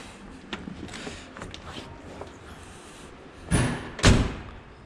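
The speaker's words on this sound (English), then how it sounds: "sounds nice when you shut the door." The door of a 1957 Chevrolet Bel Air shuts with two solid thuds a moment apart, close and fairly loud over a quiet background with small handling clicks.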